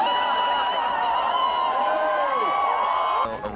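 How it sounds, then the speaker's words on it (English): A crowd cheers and whoops for Johnny Depp, a dense wash of voices that holds steady for several seconds before dropping off abruptly near the end. "hearing everyone in the crowd cheering Johnny on"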